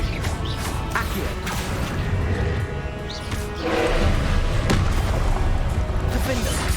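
Spell effects from the video game Hogwarts Legacy, loud booming and whooshing magical blasts with crashing impacts and mechanical rumble, layered continuously with a voice speaking throughout.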